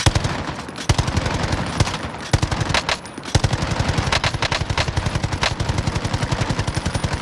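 Rapid automatic gunfire in Call of Duty: Warzone, long loud bursts of fast repeated shots with brief pauses between strings, close and dominant.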